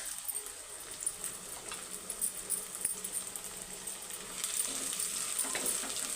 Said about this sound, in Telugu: ఇవి మూడు మనం నూనెలో బాగా మగ్గబెట్టుకుందాం కొద్దిగా ఉప్పు వేసుకుందామండి